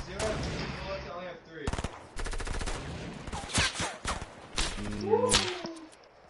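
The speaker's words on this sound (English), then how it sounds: "Just more people shooting from somewhere else." Rapid bursts of gunfire in a multiplayer PS4 shooter game, loud overlapping automatic volleys and single shots in quick succession, with a voice talking over the din.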